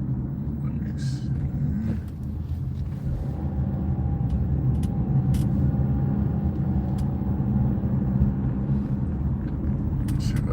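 A car drives on a cold day, heard from inside the cabin as a steady low engine and road rumble throughout, with faint clicks and someone talking intermittently over it.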